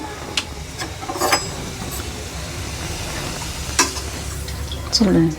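Hot oil heated for frying ragi murukulu crackles and sizzles steadily up close, with a few sharp utensil clinks and bursts of spattering. A voice speaks briefly near the end.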